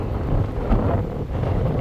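Steady wind buffets a microphone at a seasonal creek in cold January weather, a continuous low rumbling roar with no voice over it.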